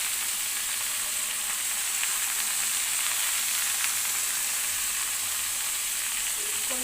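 Leafy greens (amaranth leaves) fry in a pan being stirred, a steady bright sizzling hiss that stays continuous and fairly close, with faint scraping of the stirring utensil and no talking.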